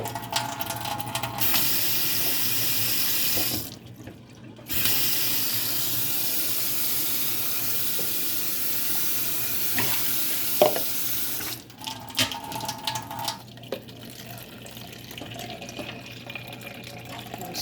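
Filtered cold water runs from a faucet-mounted filter in a steady hiss, stopping briefly twice and then resuming, with some clinks and handling sounds in between.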